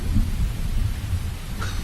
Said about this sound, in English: now there's rain pouring down everywhere and there's water everywhere